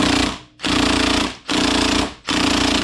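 Impact wrench fitted with a torque stick tightening a bolt on a Kawasaki H2 motorcycle during a cassette transmission job: three loud, rapid hammering bursts separated by brief pauses, close up and alone.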